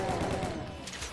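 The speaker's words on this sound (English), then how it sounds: "more guys come in because they hear the gunshots" Rapid gunfire from the video game Doom fills a brief stretch, dense overlapping shots at steady loudness with no pause, sounding busy and close within the game's mix.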